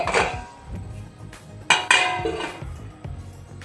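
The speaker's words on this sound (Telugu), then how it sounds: "వేసేసి మూత పెట్టేసుకుందాం." A metal lid clanks onto a pan of sweet simmering in syrup on a stove, giving a sharp clatter with a few ringing clinks close by, over a steady kitchen background.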